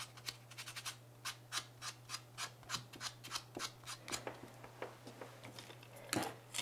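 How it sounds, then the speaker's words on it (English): A 240 grit sponge block buffs the shine off a natural nail in quick, rhythmic rubbing strokes, faint and close, about two or three strokes per second, with a low steady hum beneath and no talking. "I'm on the the 240 grit sponge block because we're on the natural nail, and I'm going to remove the shine"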